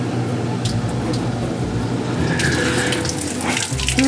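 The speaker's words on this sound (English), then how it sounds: "Oh, we got water flowing." Water rushes steadily through the exhaust risers of a homemade jetboat exhaust under test, a loud, continuous hissing flow with a brief surge near the end and a faint voice in the background.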